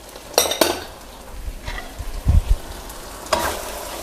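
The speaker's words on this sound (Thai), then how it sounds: "ผัดคลุกเคล้าให้เข้ากันครับ" Fried fish pieces being stir-fried in a pan with spring onion, sliced red chili and celery, giving a few scraping stirs and clinks of utensil on pan over a soft sizzle, with no talking.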